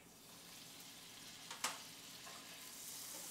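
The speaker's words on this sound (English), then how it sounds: "You can tell the pan is nice and hot because the butter has that white foam on it" Two tablespoons of butter foam in a hot skillet on a stove with a faint, soft, steady sizzle, broken by a small sharp pop midway.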